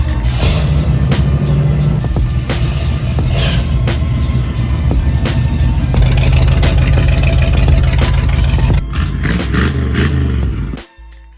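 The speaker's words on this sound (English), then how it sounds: "we got all the revs of this John Deere tractor out of our system" A John Deere tractor engine runs loud and steady with a deep, rumbling mid-range drone for about nine seconds, then drops off sharply near the end.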